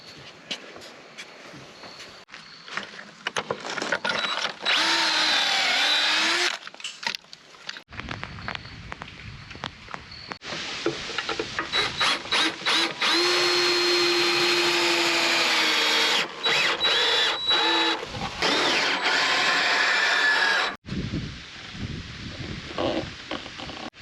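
A power drill boring pocket holes in cedar boards for an outdoor table, loud whirring bursts of several seconds each, broken by pauses, handling clatter and brief quieter stretches.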